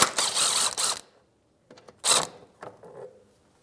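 10mm socket removing splash shield bolts inside the driver's side fender well of a Hyundai Elantra: two bursts of rapid ratchet clicking, then brief faint clicks and scrapes, close and otherwise quiet.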